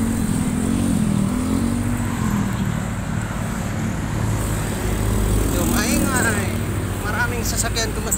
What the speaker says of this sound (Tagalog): Sasakyan tumadaan.